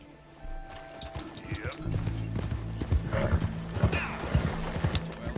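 A horse trots in the open-world western game Red Dead Redemption 2, hooves clip-clopping in a steady rhythm with jingling tack and a brief snort or whinny, moderately close, while a voice talks over it.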